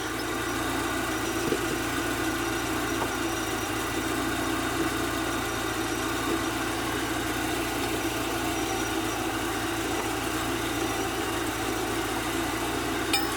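A car engine idles steadily on its own while the car sits on the ground after new wheels are fitted, giving a constant, fairly loud mechanical hum and vibration with no breaks.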